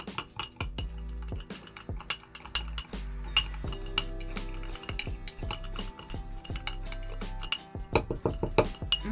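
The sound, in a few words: stirring homemade sugar lip scrub in a container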